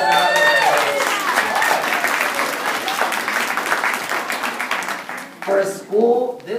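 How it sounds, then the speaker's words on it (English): Students and families applaud at an elementary school family reading night, a loud sustained round of clapping that thins and fades toward the end, with voices and cheers mixed in. "So give yourself a round of applause."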